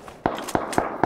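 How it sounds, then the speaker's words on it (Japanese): Four sharp gunshot reports in PUBG, in quick, fairly even succession, loud and punchy against a low background hiss. "発砲の音が向こう側"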